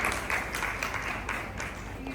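Audience applause for prize winners at a World Earth Day college event, a moderate round of clapping that stays even throughout with a few sharper claps standing out.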